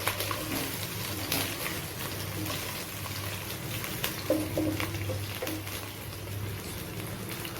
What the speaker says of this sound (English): Now I will give the brinjals. And I will give it a stir.